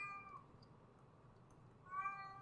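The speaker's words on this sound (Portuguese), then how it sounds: "esse é meu gato querendo carinho" A pet cat seeking affection gives two soft, faint meows a couple of seconds apart, over quiet room background.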